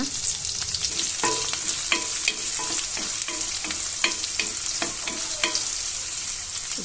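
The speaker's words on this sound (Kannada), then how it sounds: "ಸಾಸಿವೆ ಬ್ಯಾಡಿಗೆ ಮೆಣಸಿನ್ಕಾಯಿ ಕರಿಬೇವು ಈರುಳ್ಳಿ ಇದನ್ನು ಚೆನ್ನಾಗಿ ಫ್ರೈ ಮಾಡ್ಕೊಳ್ಳೋಣ" Mustard seeds, chillies, curry leaves and onion frying in oil for bisibele bath, a loud continuous sizzle broken by sharp spatula taps and scrapes against the pan at an irregular pace.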